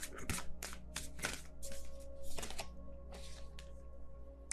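Tarot cards are shuffled by hand in a rapid run of crisp riffling flutters and soft taps, close and fairly quiet, with no talk over them.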